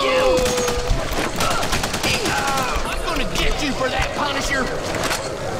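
Rapid bursts of gunfire fill a prison riot shootout on Ryker's Island in The Punisher video game, with dense overlapping shots throughout and a voice speaking over the firing.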